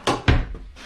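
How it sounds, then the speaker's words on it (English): A full-extension ball-bearing drawer in the bathroom of a Quailridge 39AKFFL tiny house park model slides shut, giving two close, soft thumps in quick succession. "you've got your full extension ball bearing drawer guides in the bathroom"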